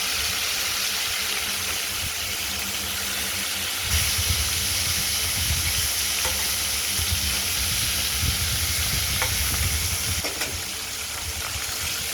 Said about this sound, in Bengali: মাছগুলো একটু উল্টো পাল্টে দিচ্ছি, আবার উল্টো দিকটা ভাজা করে নেব